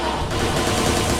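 Rapid automatic gunfire from the Watch Dogs 2 video game, a dense continuous burst of shots filling the whole moment at close, loud level with no voices.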